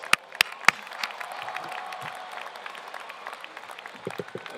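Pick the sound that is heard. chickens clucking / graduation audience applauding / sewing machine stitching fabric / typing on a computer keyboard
graduation audience applauding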